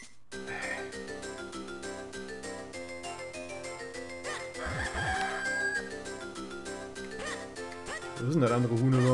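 A cartoonish rooster crow rises out of the game music in The Legend of Zelda: The Minish Cap, a short comic cock-a-doodle-doo over a busy, continuous soundtrack.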